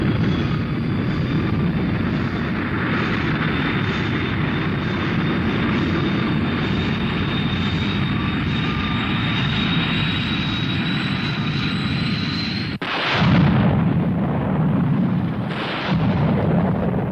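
Thunderbirds aircraft take off in an animated series with a loud, steady jet engine roar and a rising whine, followed by a sudden heavy blast and rumbling bursts.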